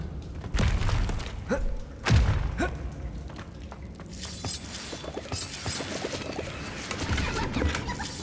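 Confringo blasting spell striking in Hogwarts Legacy, a few sharp thuds and shattering crashes early on, followed by a sustained crackling rumble of debris and magical ambience.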